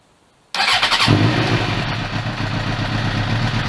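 A rebuilt 2007 Suzuki GSX-R 750 motorcycle engine fires abruptly after a near-silent moment and catches straight into a loud, steady idle, close by.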